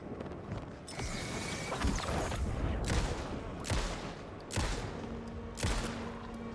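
Bursts of gunfire in the video game Alan Wake 2, several sharp loud shots spaced a second or so apart over a steady rumbling background, with ringing tails after each blast.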